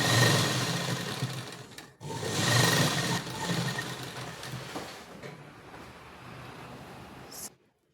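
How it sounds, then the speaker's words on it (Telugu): A sewing machine runs in steady bursts while stitching a fabric sleeve near the hand end, the motor whirring loudly, pausing briefly, then running on before stopping abruptly. "ఒక కుట్టు వేసుకున్న తర్వాత మళ్ళీ ఫ్యాబ్రిక్ని రైట్ సైడ్కి టర్న్ చేసుకొని ఇంకో కుట్టు అనేది హ్యాండ్ చివరి భాగం దగ్గర వేసుకోవాలి"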